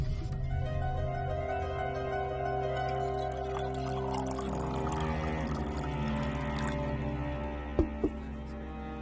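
Tea poured into a cup, a soft continuous liquid pour under background music, ending with a couple of light clinks.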